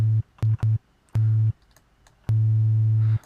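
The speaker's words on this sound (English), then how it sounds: "Waveforms, we've got a sine wave" Pure, steady sine tones from an Arturia Jupiter-8V software synthesizer played in several short bursts and longer held notes, clean and loud against near silence.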